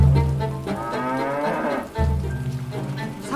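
A cow moos in a long, loud, close call near a village home, then lets out a second drawn-out moo, with no voices present.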